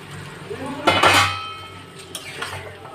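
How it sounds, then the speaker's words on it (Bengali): A spoon works spiced masala and fried eggplant around a pan, giving a few clattering metal scrapes and clinks in a short burst, then a quieter stir, close by. "ভালো করে মশলাটাকে নেড়ে নেব। ভেজে রাখা বেগুনগুলোকে দিয়ে দেবো।"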